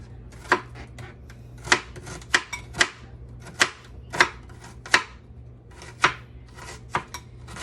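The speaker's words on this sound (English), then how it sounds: "So again, we're just going to slice." A knife slices food on a board for shrimp flatbread, making about a dozen crisp, close chops at an uneven, unhurried pace with quiet gaps between strokes.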